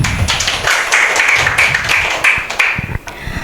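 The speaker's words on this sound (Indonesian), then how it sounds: "Beri dulu tepuk tangan." Students in a classroom clapping, a loose, uneven patter of hands at moderate loudness, fairly close and tapering off toward the end.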